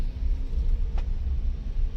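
Steady low road rumble and engine drone inside a moving car driving through hilly Wadi Layh near Taif, Saudi Arabia, continuous and unbroken with no talking.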